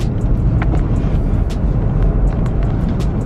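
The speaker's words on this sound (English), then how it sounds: "Okay, so I'm in the car with my dad. He's driving us down." Steady low-frequency road rumble from inside a moving car driven down the road, a constant engine and tire drone with faint clicks and rattles, no talk.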